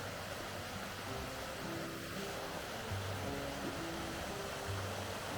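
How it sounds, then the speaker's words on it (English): Waterfall in an overgrown forest, heard as a faint, steady wash of falling water from some distance, even and unbroken, with soft low rumbles underneath and no voices. "I've arrived at the waterfall"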